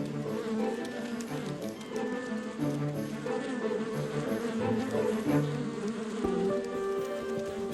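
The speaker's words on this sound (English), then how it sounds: "she climbs on her sisters' backs and vibrates her abdomen" Honeybees buzz inside the hive as a returning forager vibrates her abdomen during the waggle dance, a close, continuous droning hum layered with many overlapping wingbeats.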